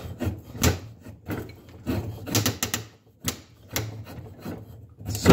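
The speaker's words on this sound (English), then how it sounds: "So see how I'm getting these shavings down there going, right?" A Mossy Oak bowie knife shaves long thin strips from dry wood, making repeated rasping scrapes in an irregular rhythm, each stroke close and distinct with short pauses between.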